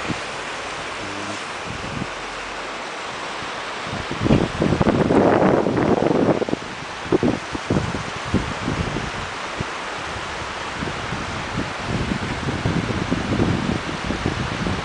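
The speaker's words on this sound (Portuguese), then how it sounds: "Cachoeira aí. É o gelo, né? Derretendo." A waterfall fed by melting ice gives a steady, broad rushing roar across the whole stretch, swelling louder for a moment near the middle, with wind buffeting the microphone and no talk.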